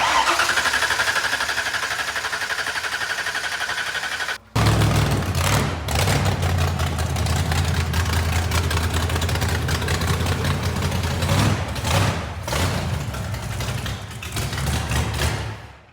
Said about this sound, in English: Well, it's a running motor, kind of.